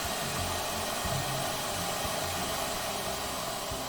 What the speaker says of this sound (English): I use the Adam Savage trick of the hairdryer